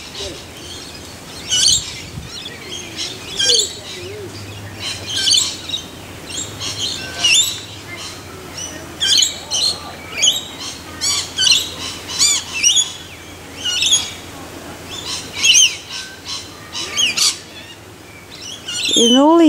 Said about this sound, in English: Birds making a noise